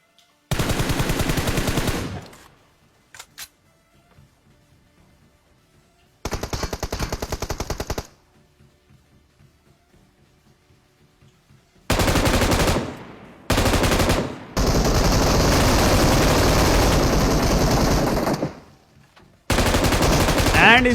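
M249 machine gun fire in PUBG Mobile, several loud sustained bursts of rapid automatic shots separated by near-silent gaps, one long burst lasting several seconds.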